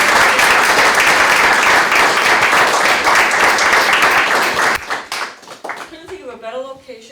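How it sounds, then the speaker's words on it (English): A crowd at a ribbon-cutting ceremony for Rhythm Medical, a new business in Westborough, gives a loud, sustained round of applause for its owner. The clapping thins out after about five seconds, and a speaker's voice takes over. "Let's give her a big round of applause."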